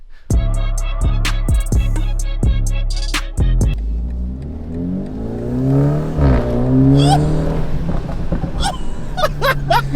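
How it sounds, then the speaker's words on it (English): A BMW G20 330i engine revs hard in several sharp blips, then its AWE Touring sport exhaust roars as the car accelerates, pitch sweeping upward, with people exclaiming in the background. "show you guys what the AWE exhaust sounds like"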